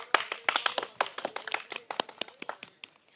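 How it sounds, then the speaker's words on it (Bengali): A small school audience claps for the first, second and third place winners of a student quiz competition, a brisk run of sharp, fairly close handclaps that thins toward the end. "তাদের জন্য জোরে একটি করতালি"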